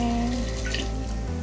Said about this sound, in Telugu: ఇప్పుడు నేను ఈ కొబ్బరి పాలు ఇందులో వేసేస్తున్నాను